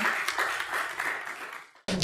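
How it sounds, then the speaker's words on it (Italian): An audience at a book presentation in the Hall of Mirrors of Taranto's city hall claps in a brief, close burst that stops abruptly, then resumes for a moment. "ringraziamo con un applauso"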